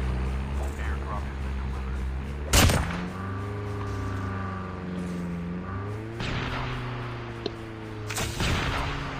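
Sniper rifle fire in a multiplayer shooter game, a few sharp loud shots spaced seconds apart over a steady engine-like drone and game ambience.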